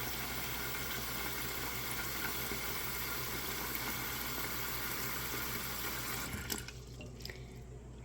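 Tap water runs steadily into a sink, filling a bowl to cover dried beans for soaking, a constant close rushing splash that stops near the end, leaving quiet drips.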